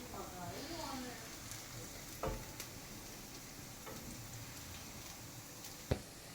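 Onions frying in a pan as they are stirred, heard as a soft, steady sizzle with a few scattered clinks and one sharp tap of the utensil, all fairly quiet.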